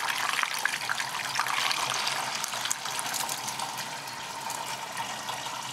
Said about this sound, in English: I'm going to run some fresh water through this radiator and try and flush it out.